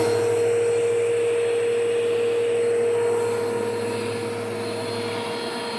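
A Bissell PowerForce Helix Turbo vacuum cleaner runs with a steady, loud motor drone and a constant tonal whine, slightly easing in level toward the end, with no talking.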